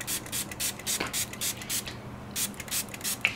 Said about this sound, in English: I'm just gonna go in with some Makeup Forever Mist and Fix Setting Spray,